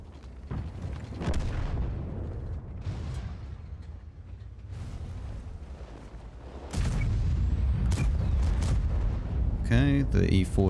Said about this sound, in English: Okay, the E4 just shot.